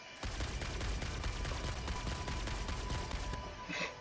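Rapid gunfire rattles continuously at a mammoth in a video game, a dense fusillade of shots for several seconds before stopping abruptly.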